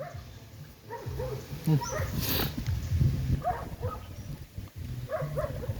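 Several dogs bark and yip in short bursts at a moderate distance, with a person's voice mixed in and steady outdoor background noise.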